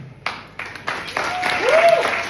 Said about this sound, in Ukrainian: Ваші оплески, друзі